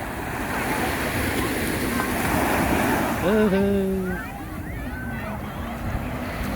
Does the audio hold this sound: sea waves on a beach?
yes